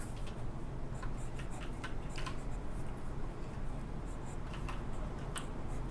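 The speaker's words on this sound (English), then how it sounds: "Some mechanical blue cherry clicks." Mechanical keyboard with Cherry Blue switches clicking at a moderate distance, with irregular sharp ticks scattered through steady background noise.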